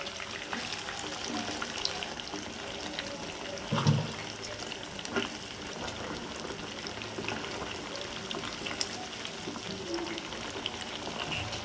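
Fish fries in a pan with ginger, garlic and spices, making a soft, steady crackling sizzle at a moderate distance, broken by an occasional brief clatter, with no voices.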